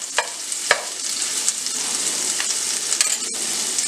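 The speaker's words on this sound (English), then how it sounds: "down into that skillet and just give it a slight stir. And what I want to do is I want to get a little color to those onions" Onions sizzle and fry in a hot skillet while being stirred, a steady crackling hiss with a few sharper pops and spatters rising above it, close and unbroken, no voices.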